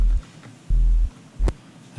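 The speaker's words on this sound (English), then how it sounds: "And then I've also layered it with a sub bass underneath as well." A jump up drum and bass sample layered with a sub bass underneath thumps three times in a heavy, deep, evenly spaced pulse, with brief quiet gaps between hits.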